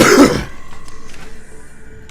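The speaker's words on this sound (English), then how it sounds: "Sorry about the coughing." A single close, loud cough or throat clear at the start, fading quickly into a quiet hum.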